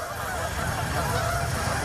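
Geese honk in a dense, steady chorus beside a lake in a park, loud and close, with overlapping calls and no pauses.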